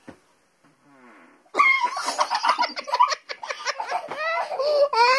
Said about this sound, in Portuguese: os piciados estão se peidando